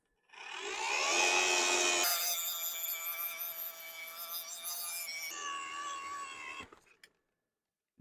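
A Ridgid 18V cordless auger drilling into the ground whirs and grinds steadily for several seconds, its tone shifting as it bites into soil, then stops abruptly.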